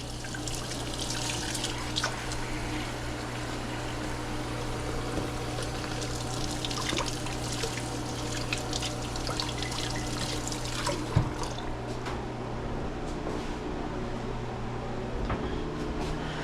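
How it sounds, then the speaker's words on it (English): A kitchen knife rinsed under a running tap while cooking Sichuan cod soup, steady splashing water stream throughout with brief clinks and drips, close and moderately loud. "Knife gets washed off for real this time."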